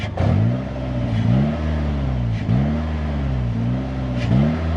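The small engine of a Slingshot SLR three-wheeler revs up and down repeatedly, its intake sucking, pitch rising and falling in cycles, close and fairly loud outdoors with no talking.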